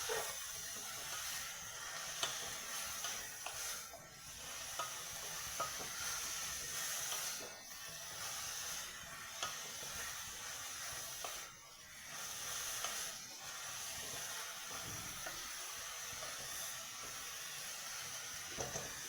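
Banana stem cooking covered in a pan over medium heat gives off a steady hiss and sizzle that swells and dips slightly throughout.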